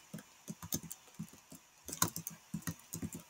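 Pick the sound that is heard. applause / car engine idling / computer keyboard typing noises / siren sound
computer keyboard typing noises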